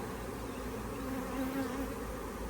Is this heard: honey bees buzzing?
yes